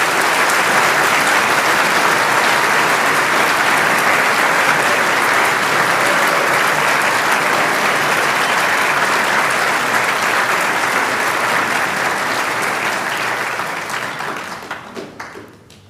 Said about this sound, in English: Please put your hands together for these students.